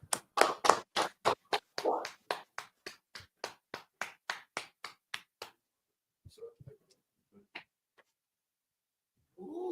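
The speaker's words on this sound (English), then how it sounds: "Clap it up." A class audience claps in a burst of sharp, evenly spaced hand claps that gradually soften and thin out over about six seconds, followed by a few scattered faint taps and quiet murmurs.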